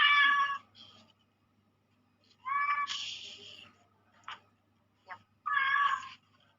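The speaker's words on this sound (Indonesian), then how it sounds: "Bentar ya, kucing saya berisik." An indoor cat meows repeatedly and fairly close, with several drawn-out meows and a few short chirps separated by quiet gaps.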